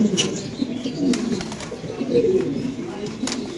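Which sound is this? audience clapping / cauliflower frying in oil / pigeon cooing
pigeon cooing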